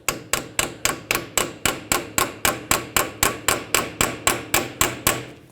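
Hammer blows on a nut threaded onto the axle end of a Ford Expedition front hub, driving the axle out: about twenty sharp metallic strikes in a fast, steady rhythm, loud and close with short ringing decays.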